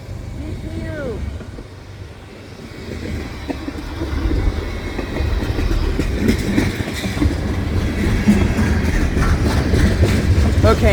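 A CSX freight train with a distributed power unit passing at night, heard as a steady rising rumble and clatter of rail cars building louder over several seconds, with a faint horn-like tone early on.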